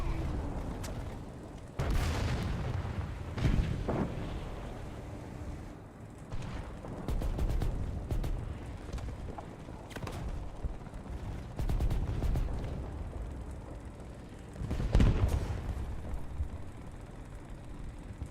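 Tank cannon fire and battlefield explosions in the War Thunder video game, heavy booming shots and blasts recurring every few seconds over continuous rumbling engine and combat noise.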